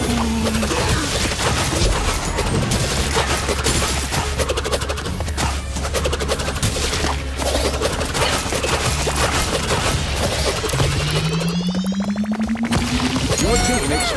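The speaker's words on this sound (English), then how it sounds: "bombardment." Bombardment attack in the Crash Team Rumble video game, a dense continuous barrage of crashing, booming impacts and rapid blasts filling the whole stretch, with a rising whistling tone near the end.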